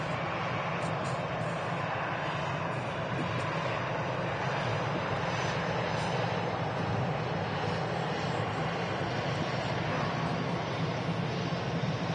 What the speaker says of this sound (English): That was a great sound from them Rolls-Royce Trent engines.